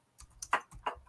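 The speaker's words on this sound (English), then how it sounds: "I'm just typing in, Kevin, for everyone to type in 2024 for the" Computer keyboard keys clicking in a short, uneven run of about five quick taps, close and fairly quiet, with no one talking.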